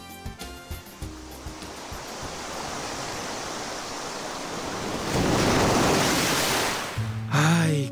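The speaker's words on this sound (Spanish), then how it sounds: "¡Miren nada más esa enorme ola que se acerca!" Large ocean wave rolling toward a Pacific beach off Hawaii, a staged radio-drama effect: broadband surf builds steadily from soft splashes into a loud roaring swell, then cuts off abruptly.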